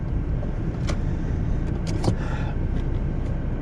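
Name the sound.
1995 BMW E36 318i accelerating, wheels spinning in snow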